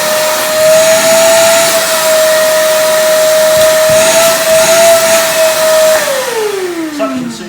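A Ryobi RVC1218P wet/dry vacuum runs loud and close with a steady high whine and rushing air, then winds down in falling pitch as it is switched off.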